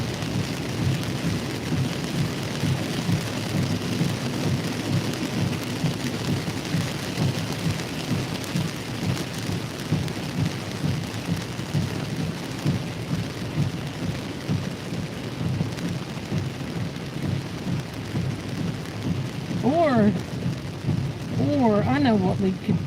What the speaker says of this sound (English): While it's raining this hard.